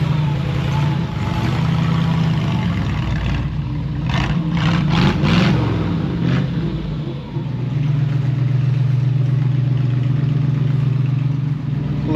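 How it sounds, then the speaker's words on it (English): A 1955 Chevrolet engine runs at a steady low drone while backing into a garage, with a brief rev and dip in the middle before settling back to a constant idle. "I have a 55 Chevy about to be backed into my garage."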